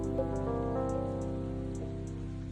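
Rain falling steadily in the video game Coffee Talk Tokyo, a soft continuous patter layered over sustained tonal game music, with faint bright drips recurring throughout.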